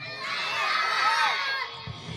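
A large crowd at a rally roars a takbir response in unison, a loud sustained shout lasting a couple of seconds before fading.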